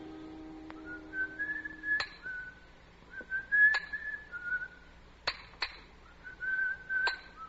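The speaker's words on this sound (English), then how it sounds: "From the yard itself came a cheery whistle, the noise of hammer blows, and the cold sound of steel meeting stone." A person whistles a cheery tune in short phrases at a stonemason's yard, quiet and close, broken by several sharp metallic clinks of steel striking stone.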